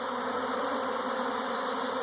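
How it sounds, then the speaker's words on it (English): A swarm of honeybees fills the air with a dense, continuous droning buzz, steady and fairly close, with no voices over it. "when bees are swarming like this, they are typically very docile, easy to get along with"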